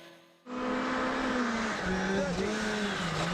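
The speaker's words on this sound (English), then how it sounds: "Back with Dubé, and his front-wheel drive is hooking up nicely on the frozen gravel." Front-wheel drive rally car at speed on frozen gravel, engine roaring loud and close from a sudden start, its revs rising and dipping steadily with tyre and stone noise underneath, at a forest rally stage.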